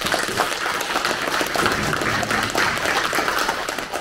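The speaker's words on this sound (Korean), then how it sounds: "다시 한번 큰 박수 부탁드립니다" Audience at a district office residents' meeting applauding, a steady dense patter of many hands clapping throughout, fairly close and even in loudness.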